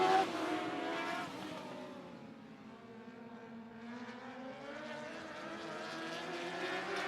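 Dwarf cars race at Sunset Speedway Park, engines droning and shifting pitch as the pack passes at moderate distance, rising, dipping, then swelling again.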